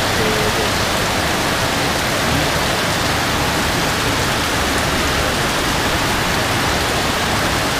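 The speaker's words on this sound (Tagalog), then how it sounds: "Napakalakas ng ulan." Heavy rain pouring down outside a room in Bugallon, Pangasinan, a dense loud unbroken hiss of downpour that holds constant throughout, with no voices over it.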